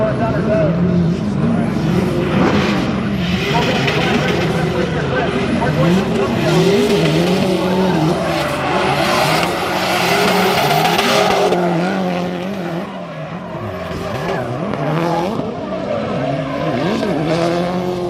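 Loud race car engines roar continuously with squealing tires skidding, while an excited commentator talks over the action throughout.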